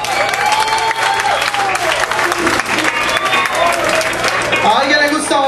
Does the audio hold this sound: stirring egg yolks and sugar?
no